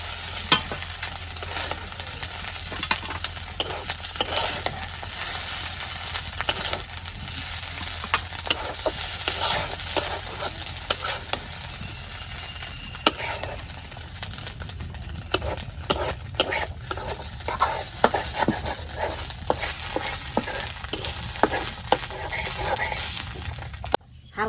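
Pieces of taro fry in a little oil in a pan for a big fish head ghonto, a continuous sizzle layered with busy, irregular clinks and scrapes of a utensil stirring, close and fairly loud throughout.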